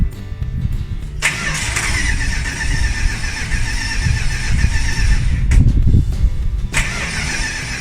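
A motorhome engine with a leaking servo cranks repeatedly with a whirring starter, fails to fully catch, then cranks again in several rough, loud attempts.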